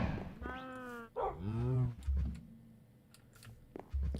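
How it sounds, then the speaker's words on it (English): A dog in the Minecraft 1.18 video game lets out two quick, clear barks in succession. Faint keyboard and mouse clicks follow, and a low hum sits underneath. "Okay, I can hear him barking"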